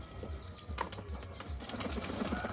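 Pigeons being released from a rooftop coop flap their wings in a steady run of soft fluttering beats, close by over constant background noise.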